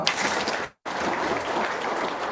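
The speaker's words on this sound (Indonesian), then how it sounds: "Tepuk tangan dulu dong." Steady applause from a crowd, a dense wash of clapping with a brief pause partway through.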